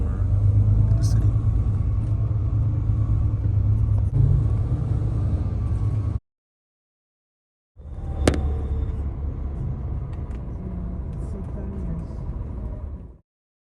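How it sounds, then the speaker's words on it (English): A coach bus drives through the town of Faro in the Algarve, Portugal, giving a steady low engine rumble and road noise from inside the vehicle, broken by a brief silent gap before resuming. "the bus is going through the town"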